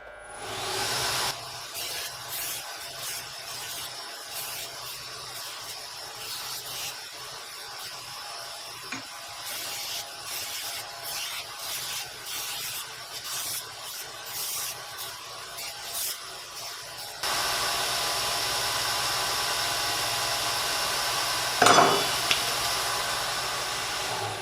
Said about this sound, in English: Alright, that's all I can do by belt sander.